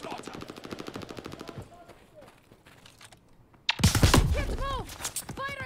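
Sustained automatic gunfire in the World War II shooter Call of Duty: Vanguard, a steady rapid rattle that fades to scattered clicks before a louder, denser burst of shots and ringing tones erupts near the end.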